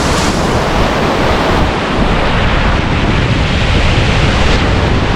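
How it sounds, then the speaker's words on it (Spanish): Rushing floodwater pours from the Cascajales spring near Benaoján in a loud, continuous broadband roar that stays close and unbroken throughout, with no voices. "Mirad el caudal que viene del nacimiento de Cascajales"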